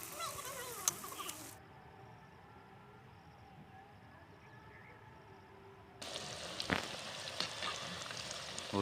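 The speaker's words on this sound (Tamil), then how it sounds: "எண்ணெய் சூடாகிடுச்சு. இப்போ நம்ம முட்டை ஊற்றிக்கலாம்." An egg fries in hot oil with a steady, close sizzling hiss that drops quieter for a few seconds, then swells louder again.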